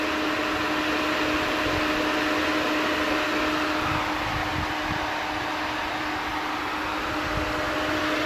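Steady whirring drone of an electric puller fan behind an aluminum radiator on a 1973 Chevy Caprice, running continuously and fairly close with a constant hum, no voices.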